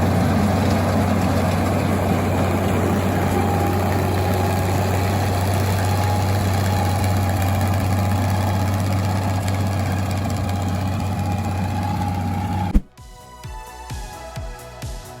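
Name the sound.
engine of New Holland 900 Speed Rover self-propelled windrower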